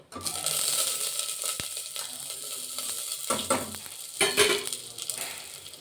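Onion, tomato and green chillies sizzle quietly in a pan. A spoon scrapes and clinks against the pan now and then, with louder stirring near the end.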